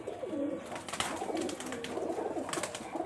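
Pigeons, highflyer Giribaz birds kept indoors in Rajshahi, cooing in soft repeated low calls, several birds overlapping at close range.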